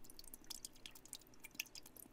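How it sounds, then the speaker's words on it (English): Water drops drip in the Steam Prison video game: a quiet, irregular run of small, sharp plinks spread over a couple of seconds, with no voice. "In the depths of my unconsciousness, I heard drops of water."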